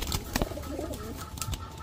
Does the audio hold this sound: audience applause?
no